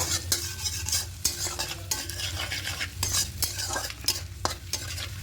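Whole cumin, two dried chillies and asafoetida are stirred in hot oil for a pea and potato curry, with rhythmic spatula scrapes and clinks against the pan over a continuous sizzle, close and alone.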